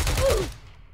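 A single gunshot in the Roblox game Prison Life, a loud short blast that quickly fades out.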